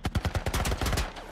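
Gunfire in the video game The Last of Us: a rapid run of about a dozen close, punchy shots in quick succession, loud and steady, with no talk over it.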